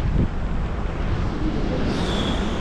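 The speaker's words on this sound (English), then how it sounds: "the wind's picked up too" Steady wind roars across the microphone at a beach by the entrance to Grays Harbor, a loud continuous rush of noise with no voices.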